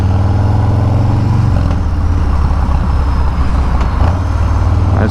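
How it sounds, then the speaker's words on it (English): Rolling road traffic surrounds a rider on a 2018 Harley-Davidson motorcycle: a loud, continuous low rumble of engines and heavy vehicles, with the engine pitch shifting partway through. "I just gotta get away from this traffic."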